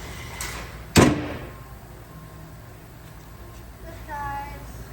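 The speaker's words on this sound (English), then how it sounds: "Okay, let's try closing the door." A vehicle door is slammed shut once, giving a sharp close thud followed by a short rattle, with quiet background noise and people talking nearby.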